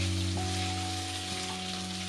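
Pork with garlic stir-frying in a pan for Thai-style street food gives a steady, close sizzle with a faint hum under it and a few brief scrapes of stirring.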